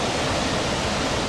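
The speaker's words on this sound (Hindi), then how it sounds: "उस नाले में तेज रफ्तार में पानी बहता नजर आया" Flash flood water rushing fast through a stream during heavy monsoon rain, a dense, loud, unbroken roar of turbulent flow with no other sounds over it.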